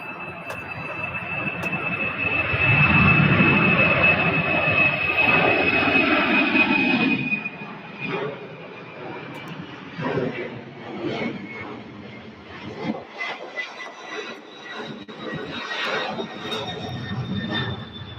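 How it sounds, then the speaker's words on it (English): Boeing 747 jet at Louisville airport spooling up on the west end for departure, a loud broad engine roar with a steady high whine for several seconds, then easing into a fainter rumble with some background talk. "we have another 747 down at the end of the west side of the airport that is going to be departing as well"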